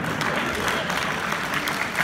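An audience at a film festival session claps continuously, a dense, even wash of applause that stays loud and steady throughout.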